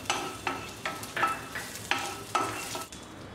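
Cashews and raisins frying in a pan for carrot halwa, with repeated stirring scrapes in bursts about every half second over a steady low sizzle, close and moderately loud, no talking.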